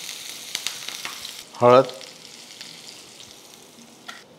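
Mustard seeds and green chili sizzle in a little hot oil while tempering a village-style cucumber dish, a short loud burst of crackling frying rising briefly over quiet kitchen background, with a single word spoken.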